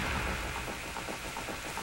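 Steady rain with rolling thunder in the Ocarina of Time video game, a dense wash of rainfall that stays loud and even throughout, with soft pulses from the storm.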